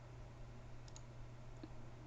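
A computer mouse clicks on a layer in After Effects, giving a couple of tiny, crisp clicks, very faint against a low background hum, with no talking.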